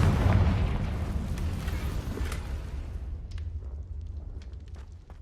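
Confringo blasting spell in Hogwarts Legacy, a loud rumbling explosion that booms at the start and slowly decays, with faint crackling debris trailing off.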